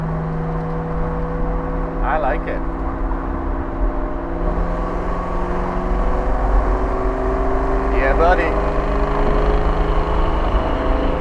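A 1999 Ford Mustang SVT Cobra Champ Car pace car engine drones steadily while driving, with a low constant hum that grows slightly louder toward the end, heard from inside the car under brief talk.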